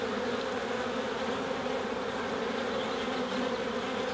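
Honey bees hum steadily and densely around an open hive during an inspection, a constant close buzzing drone with no voices.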